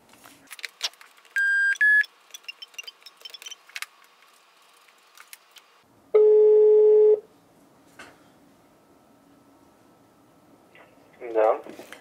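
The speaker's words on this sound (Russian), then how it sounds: "Что ж, попробуем его набрать?" Dial beeps sound close, then a long ringback tone, with clicks and handling noise around them and a voice at the end.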